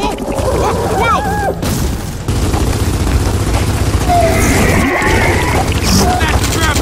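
Gunfire and explosive booms in the video game Gears of War 4, a dense continuous battle din with synthetic squeals and pops, loud throughout, with a voice talking over it.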